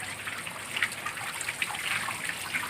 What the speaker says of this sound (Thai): นี่ครับเนี่ยน้ำตอนนี้ได้ประมาณครึ่งกระบะแล้วนะครับ